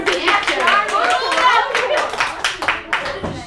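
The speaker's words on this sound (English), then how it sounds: "give a round of applause." Classroom of young English students clapping for a classmate's recitation, uneven sharp claps from a small group, fairly close and loud, tapering off toward the end with children's voices mixed in.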